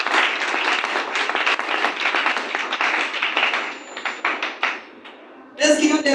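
A church congregation applauds and cheers in a long, loud stretch of clapping that thins out toward the end, followed by a brief burst of voices.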